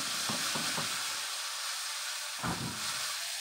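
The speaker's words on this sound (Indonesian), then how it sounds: "Saya mau numis sambal ya." Chili and shallots sautéing for sambal in a hot pan, a steady loud sizzle and hiss with a few soft stirring knocks and scrapes.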